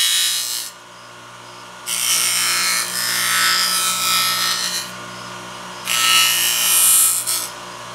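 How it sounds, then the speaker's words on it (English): Grinder lightly smoothing the outer edges of a Kydex knife sheath, loud abrasive rasping bursts in three passes separated by short pauses, close and alone. "I'm going to just kind of real lightly take off the outer edges of this on that grinder"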